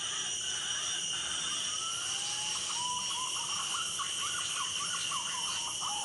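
A recorded punai pigeon call used as a hunting lure plays on a loop, soft hooting whistles repeating in a steady rhythm over constant insect buzz and outdoor background noise.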